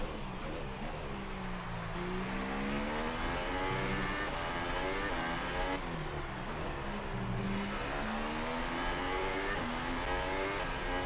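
Race cars in the F1 2018 video game scream steadily on track, with engine notes rising and falling as they accelerate and shift through gears. The sound is continuous and fairly loud, and no voices come through.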